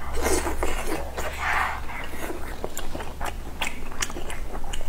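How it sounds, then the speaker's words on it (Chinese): Pork large intestine being chewed and eaten up close, with wet, squelchy mastication and frequent soft crunchy bites in a steady rhythm over a low background hum. "哇， 吃大肠。"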